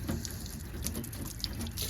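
Water running and trickling off the body of a car, a steady soft wash with small drips, low level and without talk.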